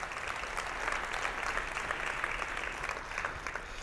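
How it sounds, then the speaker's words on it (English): A school district breakfast audience gives a sustained round of applause, dense, even clapping from a large room filling the few seconds without talk. "Can we get a round of applause for our schools and their success?"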